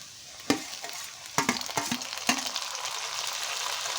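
Tomato and green chilies frying with browned onions in a pan for Bengali egg curry, a steady close sizzle broken by several sharp stirring clatters, then a settled crackle with no talk.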